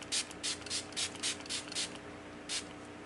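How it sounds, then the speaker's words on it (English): About nine quick hissing bursts from an e.l.f. Hydrating Coconut Mist setting spray misted over the face, fired in a fast rhythm of close, sharp puffs, then a pause and one final spritz, with no talking. "Next step would technically be to set the face with a spray. So the one I'm going to use is the e.l.f. Hydrating Coconut Mist."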